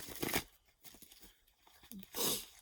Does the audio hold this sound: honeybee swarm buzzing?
no